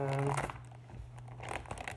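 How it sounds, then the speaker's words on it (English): A blade cuts open the side of a cardboard box, giving close crinkling and tearing scrapes in short bursts, while a person talks over it. "We're gonna cut it from the side here."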